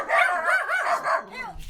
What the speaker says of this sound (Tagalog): May mga aso